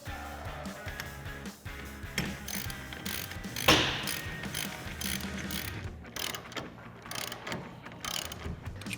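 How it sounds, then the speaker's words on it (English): A 13mm socket ratchet tightening a Truxedo TruXport soft roll-up tonneau cover clamp onto the bed rail of a 2019-2021 Silverado or Sierra 1500, steady close clicking of the pawl in quick repeated bursts, no talk. "Grab a 13mm socket and let's tighten this down."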